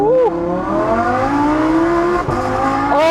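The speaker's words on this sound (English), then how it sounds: "This exhaust is unbelievable." An original Audi R8 V10 Spyder at full throttle, the exhaust opened up and the engine note climbing steadily as it accelerates, loud and close from inside the car, with a voice exclaiming over it.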